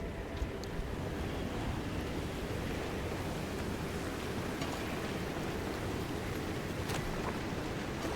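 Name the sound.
rain falling in the video game Pacific Drive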